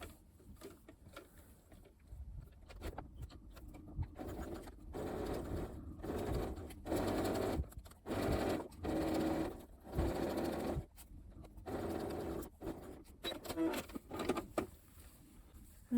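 A sewing machine stitches gusset seams in bursts, starting and stopping repeatedly with short whirring runs between brief pauses, close and fairly quiet, with no talking.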